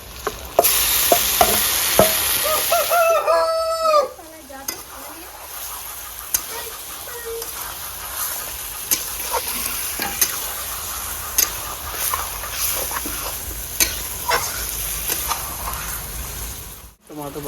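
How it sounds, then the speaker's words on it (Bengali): Chicken stirred into lightly browned fried onions in a pan for a malai chicken handi, with steady close sizzling and repeated scraping strokes of a spatula through the whole stretch. "বন্ধুরা পেঁয়াজ আমার ভাজা হয়ে গেছে, হালকা লাল লাল হয়ে গেছে। এবারে এখানে আমি চিকেনটা ঢেলে দেবো।"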